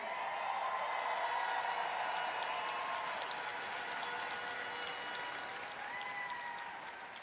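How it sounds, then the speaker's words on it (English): Steady applause from a large audience at the Miss Universe final competition, continuous and fairly loud, slowly tapering toward the end. "Please give a round of applause for Paula Sugar."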